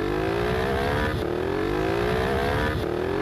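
Motorcycle engine in a Brazilian moto vlog-style video game, steadily revving as it climbs through gears, with repeated rising pitch sweeps and a brief shift dip, loud and continuous with no talk.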